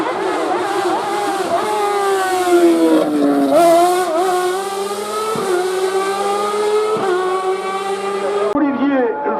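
A race car at the Turckheim – 3 Épis hill climb screams past with loud, sustained engine note rising through the gears, clear pitch shifts and a sharp drop at the end, with a commentator talking over it throughout.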